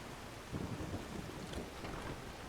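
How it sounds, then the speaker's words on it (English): Thunder rolls in Skyrim as a faint, low rumble, blended with a rain-like wash and a few deeper swells, with no voices. "this thunder is exceptionally loud."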